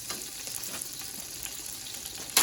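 Garlic sizzling in olive oil makes a steady, close frying hiss with faint stirring scrapes, briefly rising in a louder burst at the very end.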